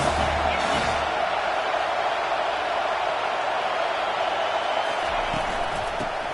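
Stadium crowd at a football game gives off a loud, steady roar that fills the whole stretch without a break.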